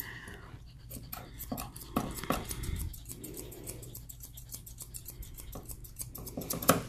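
Grooming scissors snip through a dog's fur on a grooming table, giving a rapid run of crisp metallic cuts that arrive in quick bursts with short pauses between them.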